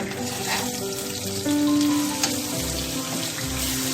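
Onions frying in a pan with garlic paste and green chilies added, a steady loud sizzle with faint stirring, alone without talk.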